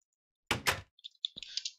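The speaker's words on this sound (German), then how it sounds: "platziere kurz die Tür" A door is placed in Minecraft. Two quick wooden knocks or thunks come first, followed by a short run of lighter clicks and clatter, close and clear against silence.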